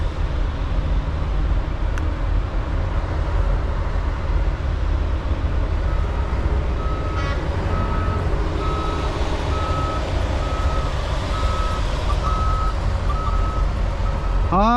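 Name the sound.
truck turning around with reversing beeps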